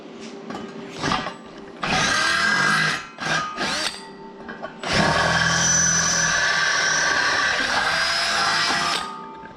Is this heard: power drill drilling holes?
yes